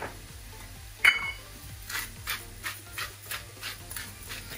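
Onion tipped into a pan to fry: one sharp utensil knock, then a run of soft rhythmic scraping strokes as it is stirred, fairly quiet and with no voice.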